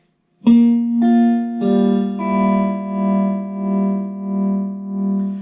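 A clean electric guitar lick, several picked notes that ring out, with a steady warbling Uni-Vibe-like tremolo pulsing through the sustained final chord.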